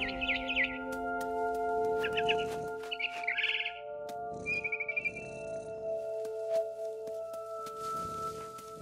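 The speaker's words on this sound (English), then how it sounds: "Then I heard chirping outside my window." Barn swallow chirping in the video game What Remains of Edith Finch, several quick high twittering calls over a steady sustained ambient drone, with a brief rapid trill midway.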